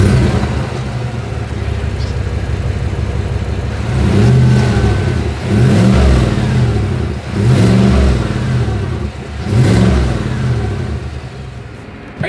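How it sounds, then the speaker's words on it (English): A 2024 Chevrolet Tahoe with dual exhaust idles, then revs several times in repeated swells, each rise climbing and falling back, loud and close with a deep exhaust rumble. "As always, here is that exhaust clip."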